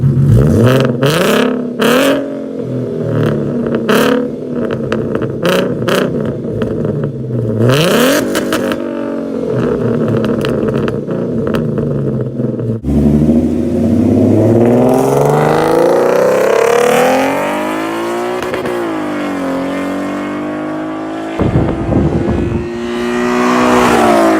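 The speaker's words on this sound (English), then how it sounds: "he has a muffler delete, so just pretty much a straight pipe out the back" Ford Mustang with a 3.7L V6, stock mid pipe and muffler delete exhaust, loud and close, blipping through several sharp revs before a long raspy rev-up that rises, falls and swells again.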